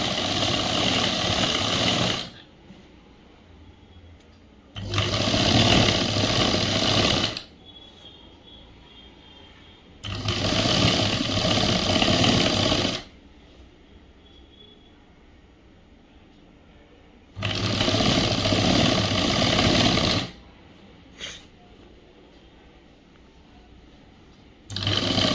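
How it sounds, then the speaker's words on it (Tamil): A sewing machine stitches the folded hem of a boy's school uniform shirt in four loud, even runs of rapid mechanical whirring, each a few seconds long, with quiet pauses between them. "அடி மடித்து தைக்கலாம்"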